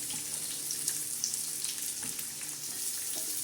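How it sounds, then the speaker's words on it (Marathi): Cumin and garlic tempering in hot oil for a spicy tawa-fried cluster bean dish, a dense, even sizzle close up with scattered spits and pops, running alone without talk. "जिऱ्याचा आणि लसणाचा छान असा तडका बसत आहे."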